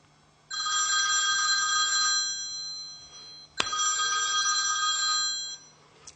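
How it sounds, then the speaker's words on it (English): An old-style telephone rings for an incoming call, two long electronic bell trills separated by a short pause and a sharp click, loud and close over a faint steady hum. "Call with old phone, like they probably still have in the White House."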